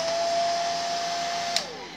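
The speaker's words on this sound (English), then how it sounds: "you're going to take a blow dryer on low and keep it about a foot away from your rock" A hair dryer on low setting blows steadily while drying paint on a rock, a constant whirring hum with a small click near the end as the tone drops.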